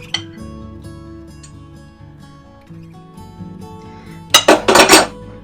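Mushed garlic is scraped into a bowl with a metal utensil, with soft scraping early on and then a burst of loud clinking and scraping against the dish near the end, all close up.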